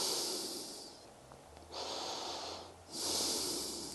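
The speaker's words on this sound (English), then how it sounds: "And breathing." Heavy breaths while holding a deep lunge stretch during a strength and mobility session: three long, airy exhales and inhales at close range, rising and falling in a slow, steady rhythm with no talking.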